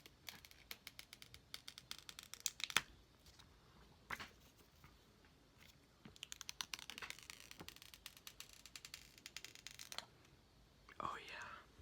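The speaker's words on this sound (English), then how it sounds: "I'm going to take the paper off." Protective paper is peeled off an iPhone SE 2020 box with faint, close crinkling, tearing and sliding scrapes in scattered bursts, while a person whispers quietly over it.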